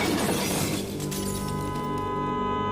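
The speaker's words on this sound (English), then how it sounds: "crashing into a large rock." A car swerves off a highway at night and slams into a large rock, with a sharp crash and shattering impact followed by a ringing, fading tail of debris and resonance.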